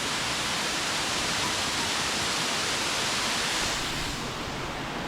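A roadside waterfall on Mindoro Island roars in a dense, constant hiss that fills every moment, loud and near with no breaks.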